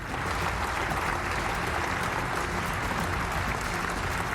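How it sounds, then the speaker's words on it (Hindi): Members of the Australian parliament giving a standing ovation to Zelensky, dense sustained applause filling a large chamber, even and continuous without pause. "ऑस्ट्रेलिया के सांसदों ने खड़े होकर तालियां बजाकर जेलेंस्की का अभिवादन किया"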